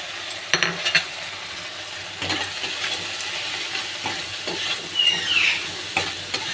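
Spices fry in hot oil in a pan for a fish curry, giving a steady close sizzle and hiss with light scraping of a spoon and small crackles throughout, with no talking.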